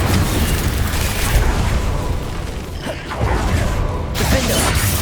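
Incendio fire spell in Hogwarts Legacy amid a game battle, a loud sustained roaring, crackling blaze with mechanical clanks and bursts, dipping briefly before swelling again with a sharp flare.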